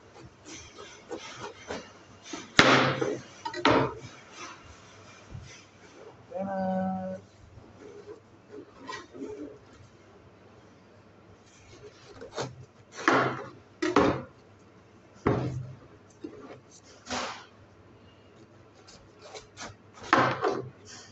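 A knife cuts through a 4 kg red watermelon with its edges already trimmed, giving a series of short crunchy slicing strokes and scrapes at irregular intervals, close by and fairly clear, with no talking.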